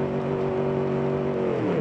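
Car engine droning steadily while off-roading with a trailer attached in the game Automation, a continuous mid-pitched hum and whir held at near-constant loudness throughout.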